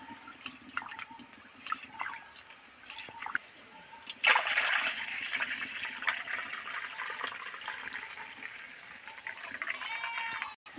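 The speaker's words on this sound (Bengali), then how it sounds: "এবার একটু ঠান্ডা জলে ভালো করে কচলে কচলে ধুয়ে নেব।" Lentils (biulir dal) washed by hand in cold water in a kitchen, with soft splashing and swishing that grows louder and steadier partway through, faint and fairly close.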